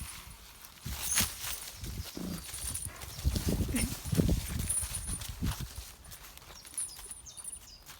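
A pair of horses walks on hard ground, their hooves clip-clopping in an uneven, close rhythm while someone talks over them and a dog sounds briefly.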